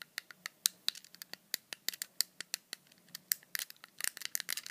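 Buttons on a fidget cube click in a rapid, irregular series of sharp, close taps, some spaced out and others bunched together toward the end, with no voices.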